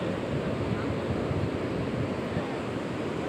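Sea waves rolling onto the beach at Cox's Bazar's Sugandha Point, a continuous close surf roar with wind buffeting the microphone, steady and fairly loud throughout.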